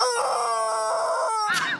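A toy chicken lets out one loud, drawn-out squawk close by, filling the whole moment and ending in a sharp squeak, with no talk.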